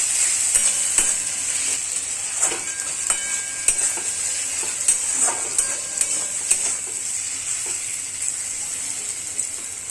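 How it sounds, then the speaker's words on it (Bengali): Spice paste and fried eggplant sizzle steadily in a pan as they are stir-fried for a Bengali katla fish curry, with a constant bright hiss and frequent scraping, clinking spatula strokes. "বেগুনগুলো ফ্রাই করে রেখেছিলাম, তো ওটা দিয়ে দিলাম, দিয়ে ভালো করে কষাবো অনেকক্ষণ ধরে।"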